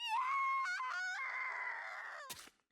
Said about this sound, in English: Screams.